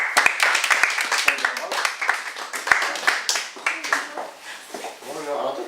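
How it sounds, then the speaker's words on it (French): Audience applause in a coaching training session, a dense run of hand claps that fades out toward the end, with voices talking over and after it. "On applaudit."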